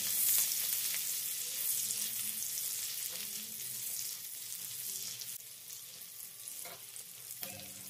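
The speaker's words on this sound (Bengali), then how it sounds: "আদা, রসুন আর কাঁচা লঙ্কা কুচিকে হালকা লালচে করে ভেজে নিয়েছি" Chopped ginger, garlic and green chillies frying in hot oil for chili chicken, a close crackling sizzle that starts loud and gradually settles, with occasional spatula taps toward the end.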